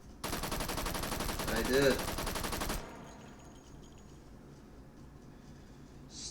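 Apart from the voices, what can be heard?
automatic gunfire from a World War II gun in H3 VR video game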